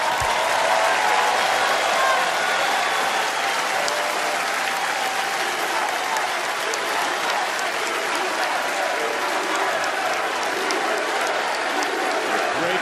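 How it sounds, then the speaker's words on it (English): A large crowd applauds loudly and continuously, a dense wash of clapping that stays steady throughout. "give them a round of applause with me"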